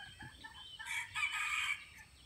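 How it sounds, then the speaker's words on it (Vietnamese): A semi-tame junglefowl rooster crows once at mid-distance on a rural farm, a clear drawn-out cock-a-doodle-doo that stands alone over quiet background. "Nhìn gà rừng. Chúng gà rừng anh em ạ."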